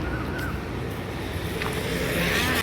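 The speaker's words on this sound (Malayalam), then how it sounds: "ബോട്ട് കയറി." A boat ride on the water near Marine Drive, Kochi, heard as a steady, loud rush of wind and water with engine rumble that builds slightly toward the end.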